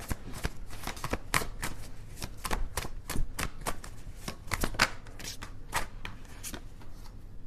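Tarot cards are shuffled close to the microphone in quick, uneven bursts of riffling and flicking that keep going for several seconds.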